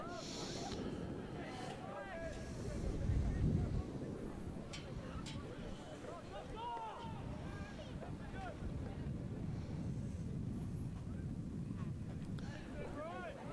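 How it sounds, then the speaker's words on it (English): Gusty wind buffeting the microphone at an outdoor high school soccer match, an uneven low rumble that swells and fades, loudest in an early gust, with faint talk beneath. "Wind is still gusting, but it is a lot less than it was."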